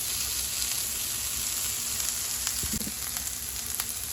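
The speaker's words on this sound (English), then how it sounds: "give that a whisk around in the oil, making sure that all the onions and peppers are sauteed properly" Onions and peppers sauté in hot oil for Caribbean-style fried cabbage, a steady close sizzle broken by a few soft stirring knocks, with no speech.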